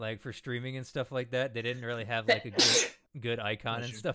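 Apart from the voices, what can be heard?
sneeze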